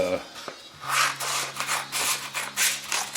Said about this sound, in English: we can discard the coarser sandpaper and go to a finer 400 grit